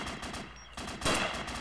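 Rapid bursts of gunfire from the video game Arma 2, automatic shots fired in quick succession at close range.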